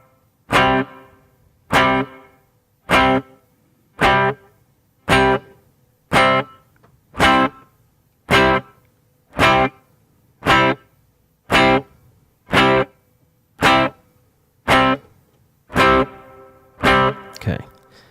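Struck guitar chords repeat about every 1.2 seconds through an effects unit, processed with reverb and a pre-delay. Each chord is a loud attack that decays into a short tail before the next one lands.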